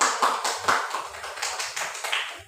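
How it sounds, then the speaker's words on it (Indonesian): A small classroom group claps for a group presentation, making a short burst of several uneven, fairly close hand claps lasting a couple of seconds. "Kelompok 1 berikan tepuk tangan"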